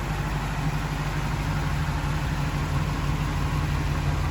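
A 1969 International Scout 800A sits idling close by, its engine holding a steady, even low rumble with no revving, alone and without talk for the whole stretch.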